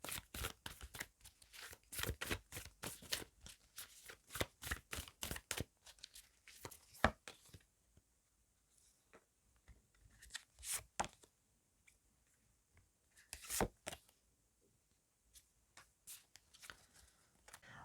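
Tarot cards shuffled and drawn, with rapid papery riffling bursts in the first seconds, then scattered softer slaps and flicks of cards being laid down, close and quiet, no talk.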